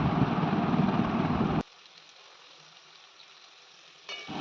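Chopped potatoes with turmeric and salt fry in a pan, giving a loud, steady sizzle that cuts off abruptly, leaving a quiet stretch before the sizzling returns near the end.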